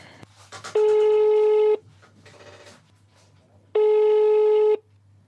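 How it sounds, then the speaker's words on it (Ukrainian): Telephone ringback tone on an unanswered call, two long identical tones about three seconds apart with quiet line noise between them. "Знову телефонуємо Олексенко Олександру Сергійовичу."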